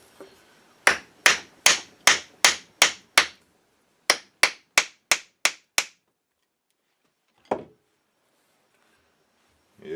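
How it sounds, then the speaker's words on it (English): Sharp wooden blows from a 2x3 block whacking a muzzle brake off an HW90 air rifle barrel, two quick bursts of about six loud, evenly spaced knocks each, then a lone strike after a pause. "we're just going to put it up to the muzzle brake here and try to whack it off"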